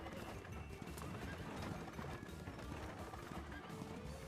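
Horse hooves clip-clop steadily with a whinny in the Fool's Gold video game, dense and continuous at close range under busy game sound.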